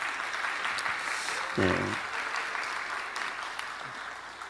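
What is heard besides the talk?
church congregation applause of thanks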